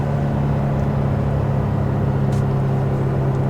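Inside a 2023 Nissan Frontier Pro-4X towing a trailer, the engine drones loudly and steadily as it downshifts through the gears, with a continuous low rumble and whir and no voices.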